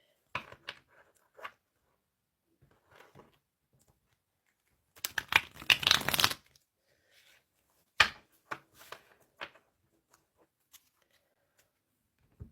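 A deck of tarot cards being shuffled in short papery bursts, with one longer riffle in the middle and scattered lighter taps and flicks around it, close and otherwise quiet.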